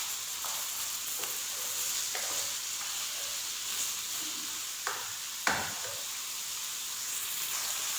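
Beef frying for a white karahi, a soft, fairly quiet continuous sizzle with occasional light scrapes and knocks of a spoon against the pot.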